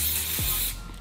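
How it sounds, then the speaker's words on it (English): A short, close hiss of cooking oil spray hits a hot griddle before burger patties go down, then cuts off abruptly. "A little bit of spray."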